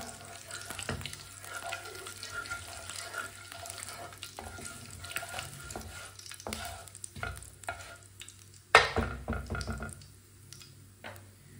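Whole cumin and coriander seeds roasting in a pan, a faint, low crackle with occasional scraping from stirring and one louder clatter near the end.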